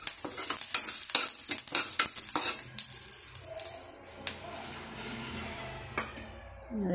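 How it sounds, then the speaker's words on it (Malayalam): Urad dal and curry leaves fry in oil for Onam erissery, with rapid close spoon strokes and clinks against the pan at first, then settling into a softer steady sizzle with a few isolated taps. "കരിവേപ്പില ഒരു രണ്ട് കരിവേപ്പില ചേർത്ത് കൊടുക്കാം. എല്ലാം ചേർത്ത് നന്നായിട്ടൊന്ന് നമുക്ക് മൂപ്പിച്ചെടുക്കാം."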